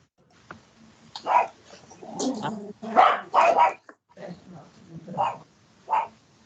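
A small dog gives a series of short, sharp yaps and barks in separate bursts, close and fairly loud against a quiet background.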